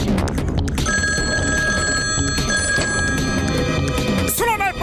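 An old-style telephone bell rings in long sustained trills over a busy cartoon soundtrack, loud and continuous, ending with a brief rising tone.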